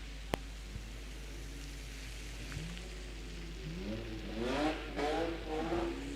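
An E36 BMW race car lapping a wet raceway, its engine rising and falling at a distance with faint tyre spray and a few sharp clicks, no talking.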